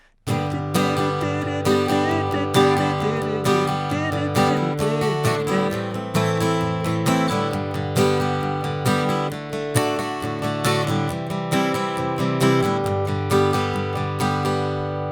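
Acoustic guitar strumming the final verse chords of a song in a steady rhythm, chords ringing out clearly and close up for several bars, with no voices.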